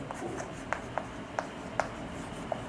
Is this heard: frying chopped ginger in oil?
no